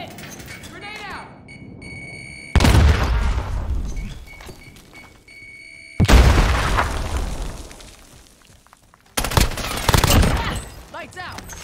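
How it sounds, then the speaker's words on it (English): Grenade blasts in the Call of Duty Warzone video game: three heavy, loud booms spaced a few seconds apart, each decaying into rumble, with brief voice chatter in between. "Grenade out!"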